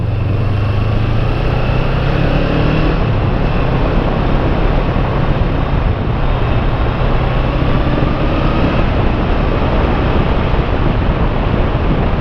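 A Kawasaki 454 LTD motorcycle, freshly fitted with a new head gasket and rebuilt, roars steadily and loudly throughout the ride under heavy wind rush, with slight shifts in engine pitch.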